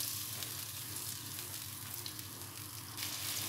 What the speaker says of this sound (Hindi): ये देखिए इसमें बॉयल आने लगा है